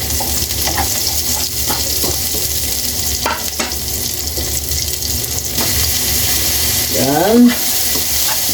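Crab sautéing with coconut milk and tomatoes in a pan for ginataang alimasag, a steady loud sizzle and frying hiss throughout with faint stirring clatter and a brief voice near the end.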